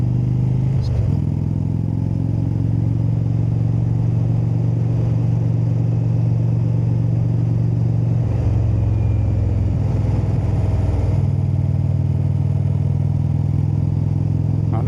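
Vehicle engine on a scenic ride toward West Virginia drones steadily close up, with its pitch shifting and rising in revs after a downshift from fourth gear, over constant road and wind rumble.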